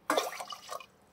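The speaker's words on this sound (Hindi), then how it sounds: "इसके साथ ही इसमें मैं 2 कटोरी दूध डाल दूंगी" Milk is poured into a pot of heating water while making vermicelli halwa, giving a short, soft splashing gush that fades within a second, fairly quiet and alone.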